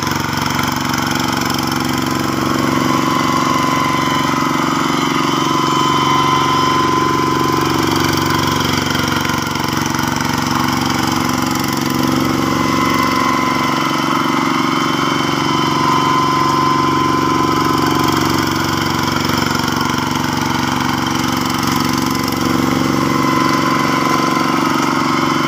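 A tractor on iron wheels drifts with its engine running, producing a loud, continuous, steady engine drone with a mid-pitched hum and rumble that barely changes over the whole stretch.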